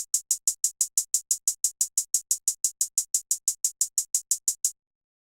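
A dry electronic hi-hat pattern before any effects processing, about two dozen crisp, evenly spaced closed-hat ticks repeating steadily for nearly five seconds, then stopping, with no other sound.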